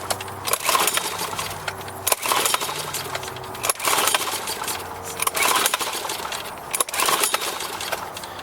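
A Honda EX1000 portable generator is pulled repeatedly by its recoil starter without firing, giving rhythmic rattling pulls every second or two that come close and loud, with no engine catching.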